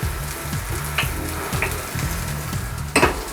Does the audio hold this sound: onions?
yes